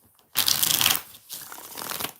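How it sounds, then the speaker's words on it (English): Tarot cards being shuffled by hand, two riffle-like bursts of crisp papery flutter close up, a louder one followed by a brief pause and a second, softer run, with no talking. "I'm going to shuffle this 4 times and see what comes out to go with it"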